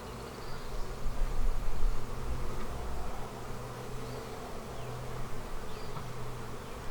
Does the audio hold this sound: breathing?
no